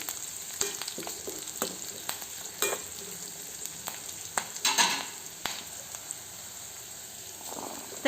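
Curry leaves and onions frying in oil for a beetroot fry, a soft steady crackle with sharp spattering pops scattered throughout and a louder burst of sizzling midway.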